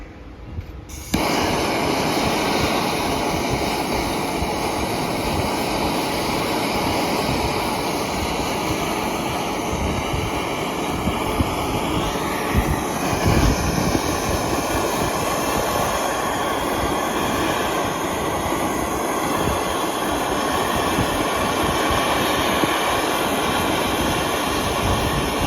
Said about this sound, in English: let's set some heat on this, see if we can get it loosened up